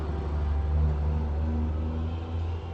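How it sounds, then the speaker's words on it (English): A truck passes by outside, heard as a steady low rumble and drone that swells slightly and then eases, muffled and continuous with no voices. "Sounds like a truck, actually."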